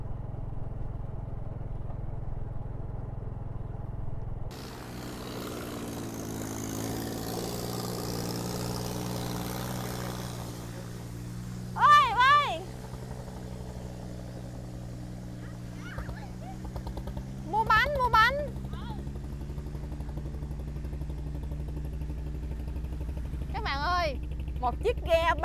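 The engine of a small grocery boat on a river in Ca Mau's U Minh mangrove region starts a few seconds in and settles into a low, steady droning hum nearby, with brief voices heard intermittently over it.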